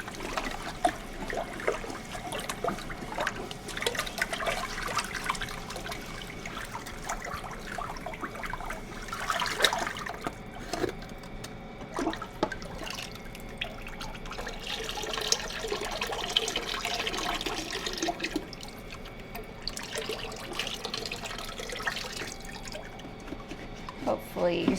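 Thick liquid glaze pours onto a ceramic mug, trickling in uneven splashes and drips, with soft handling noises around it.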